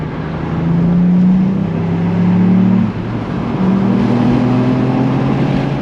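A 2022 Ford Fiesta ST Mk8.5 facelift engine revs in a tunnel, its steady droning note rising and falling in two long sustained pulls, loud and close with road and wind rumble underneath.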